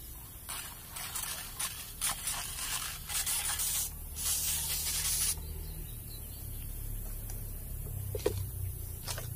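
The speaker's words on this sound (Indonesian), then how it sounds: "Kita semprot lagi ya." A tank sprayer mists organic vitamin solution over pumpkin plants, a continuous close hiss that pulses in bursts and then settles into a steady spray.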